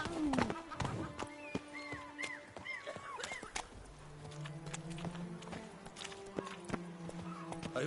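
The horse Roach trotting in The Witcher video game, with a rhythmic clip-clop of hooves that continues throughout, close and clear, alongside bright game sounds and occasional talk.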